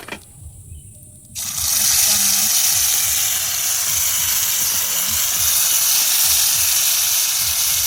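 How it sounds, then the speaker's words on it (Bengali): Cumin seeds go into hot oil for a tempering at an outdoor village cooking spot by a riverbank, a quiet start suddenly giving way to a loud, sustained sizzle that holds steady to the end. "একটু জিরে ফোড়ন দিয়ে দিচ্ছি"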